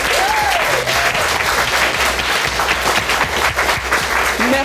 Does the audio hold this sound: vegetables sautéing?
no